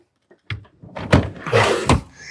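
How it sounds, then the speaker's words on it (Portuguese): The electric tailgate of a 2025 Kia Sportage Hybrid opens with a clunk of the latch and a short mechanical whir, heard close and loud. "Vamos abrir aqui o porta-malas. Tampa elétrica."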